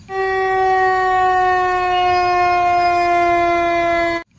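A loud toy fire truck siren wails as one continuous electronic tone, holding steady for about four seconds before cutting off abruptly.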